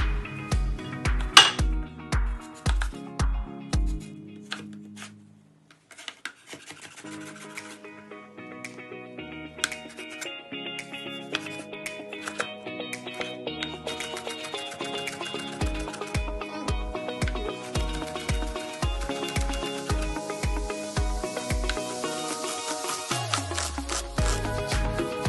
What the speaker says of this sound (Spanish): voy a ir picando el pimientito, el pepino, la cebolla y el tomate